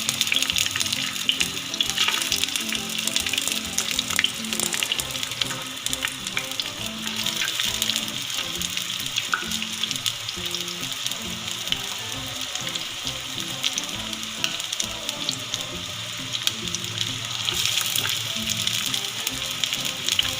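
Onions fry in oil in a heated clay pot, making a steady, dense hiss and crackle that runs without a break at close range, with no voices over it.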